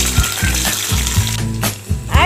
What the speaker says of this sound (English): Take a pan and add some oil. Add a half capsicum.